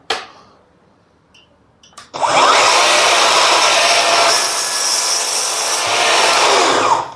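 A Festool Kapex KSC 60 cordless miter saw cuts through wood without a dust bag attached. A couple of faint taps come first, then a loud, steady close-up whine of the blade biting the wood runs for about five seconds before stopping.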